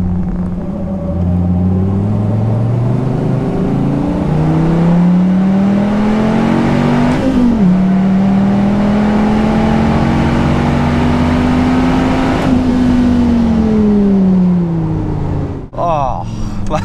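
A Dodge Viper ACR with a V10 engine is pushed hard on a race track, its loud, close engine note climbing and falling through several gear changes under steady, sustained drive.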